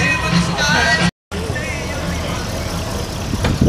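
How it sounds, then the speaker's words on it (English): A 442 convertible rolls in at an outdoor VFW car cruise with a steady engine rumble and traffic noise, while an announcer talks over a PA and a crowd murmurs in the background. "Nice 442 convertible coming in."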